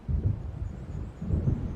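Deep rolling thunder from an approaching storm in Alan Wake, two low rumbles swelling and fading close together, heard alone without speech.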